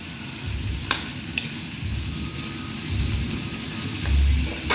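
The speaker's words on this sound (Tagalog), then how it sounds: "Ginigisa ng hipon." Shrimp being sautéed in a pan for misua soup, a steady sizzle with stirring and occasional clinks, fairly close, with no talk.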